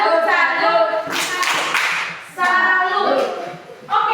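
An elementary class does the 'tepuk salut' clapping cheer during a Pancasila lesson, with bursts of rhythmic group clapping mixed with loud children's chanting voices throughout.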